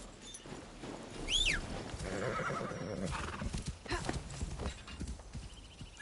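Hooves clip-clop steadily from a horse ridden in Assassin's Creed, with a whinny or two rising over the game's ambient sound, close and fairly loud throughout.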